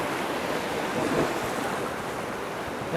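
Rushing river rapids on the North Platte River heard from a drifting fishing boat, a steady broadband roar of churning water with wind noise over the microphone, continuous and close, with no talking.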